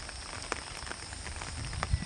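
Steady heavy rain hisses over a flooded area, a continuous close wash of drops with a few brief louder splashes.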